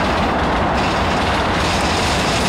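A freight train rumbles past loudly in the city-building game Workers & Resources: Soviet Republic, a dense, continuous roar of wheels and rolling stock with a faint clatter, close and unbroken.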